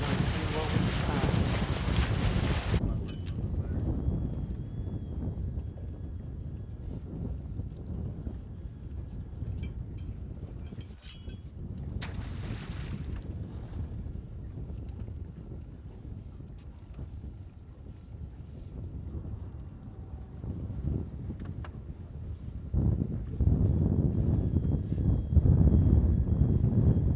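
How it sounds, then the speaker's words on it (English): Steady wind of about 10 to 15 miles per hour blows over Lake Guntersville aboard a fishing boat, giving a continuous low roaring rush with buffeting gusts that swell louder near the start and again toward the end. "the wind's blowing about 15 miles an hour today"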